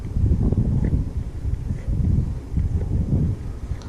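Steady wind gusting across an open lake on a fishing trip, a broad low rumble that swells and eases in waves, with faint rustling and no talk.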